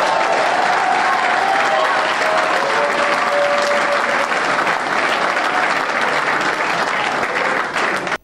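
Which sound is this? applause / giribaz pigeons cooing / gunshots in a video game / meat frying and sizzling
applause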